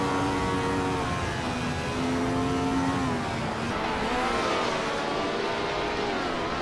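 A 1967 McLaren Elf A racing car engine drones loud and steady, its pitch climbing and easing as it pulls through the gears with no pause.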